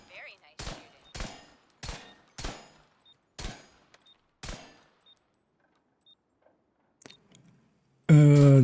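Gunshots at a shooting practice session: six sharp, evenly spaced reports about half a second apart, then a pause, a fainter seventh shot, and finally a loud voice cutting in.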